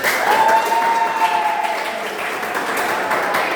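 Strong burst of applause from a school class that starts loud and gradually tapers, with a faint tonal whine briefly audible underneath.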